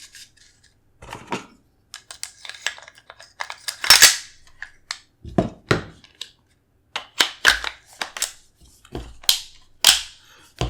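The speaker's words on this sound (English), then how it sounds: "So reassembling, strap your charging handle back in." Metal parts of a Geissele Super Duty MOD 1 rifle click and clack as it is reassembled and the charging handle is slid back in, a string of sharp, close, separate snaps and scrapes with quiet gaps between them.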